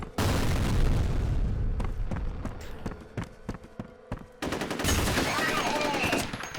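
Grenade explosion and gunfire in the video game F.E.A.R.: a heavy boom opens a stretch of loud, rumbling blasts and rapid shots that thin to scattered reports, then a fresh burst of dense firing near the end.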